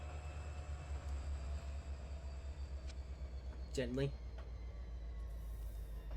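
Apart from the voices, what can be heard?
train coming to a gentle stop, from video game Trainz Simulator 3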